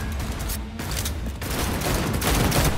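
Sustained, dense gunfire from a firefight in the video game Cyberpunk 2077 rattles on loudly throughout, with rapid overlapping shots and bursts and no clear gaps.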